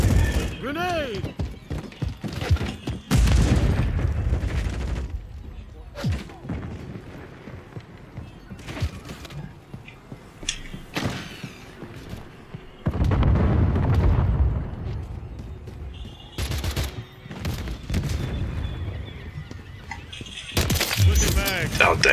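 A grenade blast in a first-person shooter game booms repeatedly amid bursts of gunfire and crackling debris. The blasts are loud and near, with a person talking over parts of the action.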